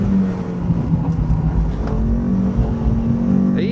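A race car at full throttle, accelerating out of a turn at Phillip Island, heard from inside the cockpit as a steady, loud engine drone with a rising pitch near the end.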